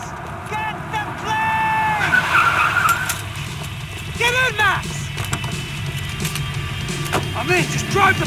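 A car skids and its tyres squeal during a Max Payne 3 chase, with the engine running steadily and several short screeches over the drive. Voices talk over the scene.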